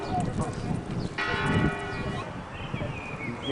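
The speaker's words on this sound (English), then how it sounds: "The bells ring out. They ring out for thee." Church bells ring at Philip IV's royal palace in Madrid, Spain, their tolling heard at a distance through outdoor crowd noise and wind.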